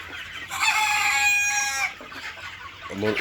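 A rooster on a poultry farm gives a loud, close crow lasting over a second, followed by soft clucking from the surrounding chickens.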